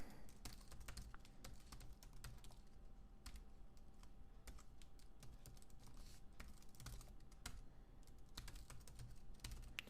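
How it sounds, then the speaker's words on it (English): Close, quiet clicking of keys on a computer keyboard as an email address and password are typed in quick, irregular bursts with brief pauses, and no voices. "When prompted, enter in your email and password."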